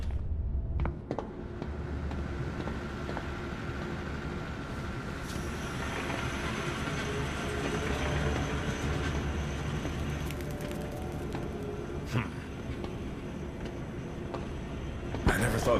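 A zoo train and trolleys roll steadily through the Zoochosis video game, a continuous low rumble and clatter with occasional metallic clanks and faint hiss throughout, with no talking.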